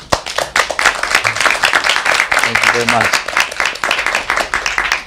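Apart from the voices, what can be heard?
audience applause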